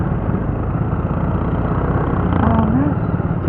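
A Rusi 150x motorcycle idles near the microphone, its exhaust giving a loud, steady low rumble, with a brief voice partly masked by the engine.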